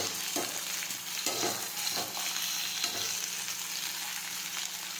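Kantola, a spiny gourd vegetable, sautés in a pan with a soft, steady sizzle and occasional light scrapes from a spoon stirring it.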